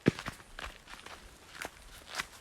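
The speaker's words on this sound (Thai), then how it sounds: "พี่ได้ยินเสียงคนเดิน" Footsteps of a person walking in a video game, a handful of distinct, irregular steps, fairly close and crisp against a quiet background.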